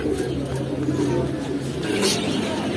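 Gola pigeons coo softly at a pigeon seller's shop, low murmuring calls repeating under a steady background of chatter and bustle.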